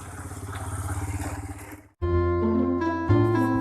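A motorcycle engine chugs with a steady pulsing idle for about two seconds, then cuts out as loud sustained tonal music takes over.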